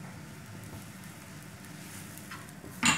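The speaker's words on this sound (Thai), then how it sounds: "พอกะทิของเราเริ่มเดือดหรือแตกมันก็ใส่น้ำพริกแกงลงไปผัดได้เลยค่ะ" Thai green curry paste stir-fried in boiling coconut milk in a pan, a soft steady sizzle and bubbling throughout with a brief louder clatter near the end.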